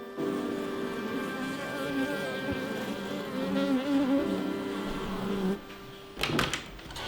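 A swarm of honeybees at a traditional farmhouse hums in a steady, close drone that holds for several seconds, then cuts off into a brief clatter near the end.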